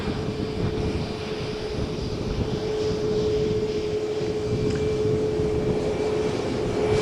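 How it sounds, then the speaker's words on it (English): A Jet2 jet airliner takes off from Malaga Airport on a stormy morning, its engines a steady, broad roar heard from a distance with a sustained tonal whine running through it. "on the Jet2 flight to Belfast. It seems we see an immediate takeoff"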